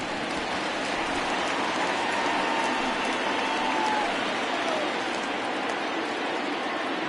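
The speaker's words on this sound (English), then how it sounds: "the rain's starting to intensify here. It's coming down a little heavier now." Steady rain falls in a baseball video game, a dense, even hiss of drops running unbroken from start to finish with no pause or build.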